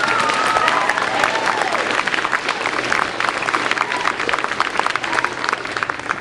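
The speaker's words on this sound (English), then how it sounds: "Let's have a round of applause" A crowd at an elementary school centennial celebration gives a loud, dense round of applause for a long-serving staff member, with scattered cheers and voices mixed into the steady clapping.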